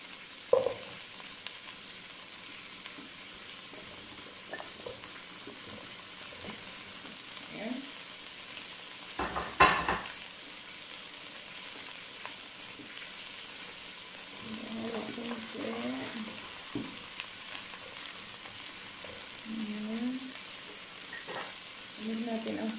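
Squash and eggplant dropped into a hot pan, a faint sizzle and frying hiss with a clatter as the vegetables land and some stirring, under occasional quiet talk.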